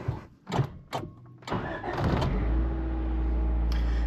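A 1989 Honda Prelude cranks over with a few quick starter bursts, then catches and settles into a steady, close idle hum.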